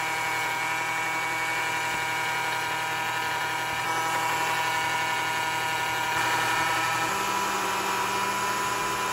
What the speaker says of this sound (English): this is my buffer